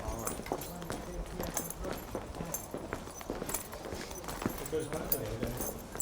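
An older horse at a turf yard with hooves clip-clopping in a steady walking rhythm, close and moderately loud, while people talk over them.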